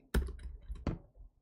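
Two sharp key strikes on a computer keyboard, a short burst near the start and another just before the end, close and fairly quiet with no talking.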